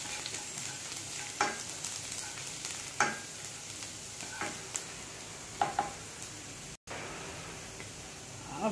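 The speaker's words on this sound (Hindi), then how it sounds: "लहसुन को एक दो तीन मिनट भूनकर" Garlic fries in oil in a kadai with a steady, soft sizzle and occasional stirring clinks and scrapes, fairly quiet and close, with no voices.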